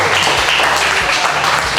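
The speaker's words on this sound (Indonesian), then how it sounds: "Sebelah sana tepuk tangannya kurang kencang" A crowd applauds in a dense, continuous burst of clapping that stays loud throughout the short stretch.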